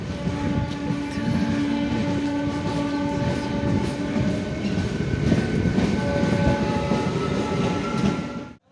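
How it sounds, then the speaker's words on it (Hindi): A train passes at a railway station with a loud continuous rumble of wagons and sustained horn-like tones layered over it, close and steady until it cuts off at the end. "निरीक्षण कर रही है ट्रेन का, कैसी है ट्रेन"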